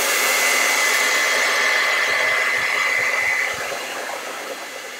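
A hair dryer blows steadily close by to dry a freshly painted acrylic still life of a vase with zinnias, a constant loud airy whine that eases slightly near the end.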